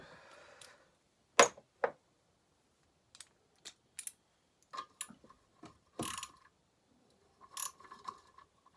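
A small socket ratchet worked on a McCulloch Super Pro 80 chainsaw, sparse close clicking and ratcheting bursts separated by quiet pauses, with a few brief tool clinks in between.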